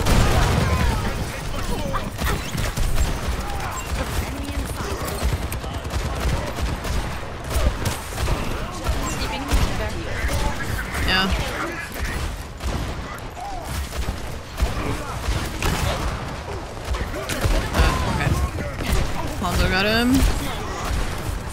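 Dense, constant Overwatch 2 gunfire and impacts during a payload fight, shots and crashes layered into a loud continuous clatter while a player talks over the action now and then.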